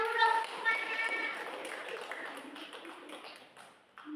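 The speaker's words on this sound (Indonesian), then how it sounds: "tepuk tangan dulu dong" Children in a primary school classroom clapping during an Islamic religion lesson, a soft, scattered patter of small hands mixed with kids' voices, fairly quiet and distant, continuing for several seconds.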